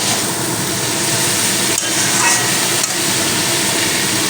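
Pumpkin stems sautéing in a pan give a loud, steady, close hiss that runs unbroken for several seconds.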